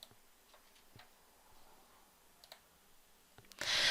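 Several light, sparse clicks from a computer mouse pressing a login button, faint and close, then a sudden burst of louder broadband noise at the very end.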